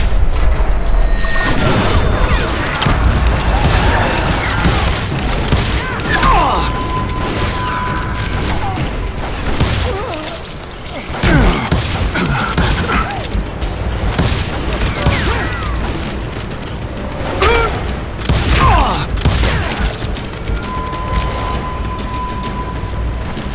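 Heavy gunfire and booming blasts in a Call of Juarez firefight, with loud, dense shots and crashes layered over a continuous rumble throughout, and a faint voice now and then.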